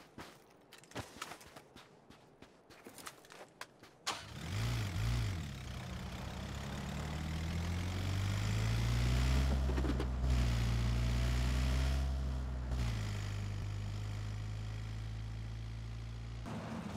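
Bus engine in PUBG starting up after some clicks and footsteps, then a low droning engine that revs up and holds steady as the bus drives, loud and close.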